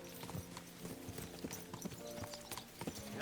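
Horse hooves clip-clop in Kingdom Come: Deliverance 2, a brisk uneven run of close, moderately loud strikes over a soft ambient bed, without voices.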